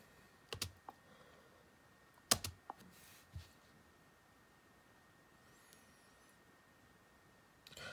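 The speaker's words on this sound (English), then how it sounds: "So you simply just type in the username and password." Quiet keyboard typing as a username and password are entered: a few sharp, separated keystroke clicks in short bursts against a faint hiss, with no talking.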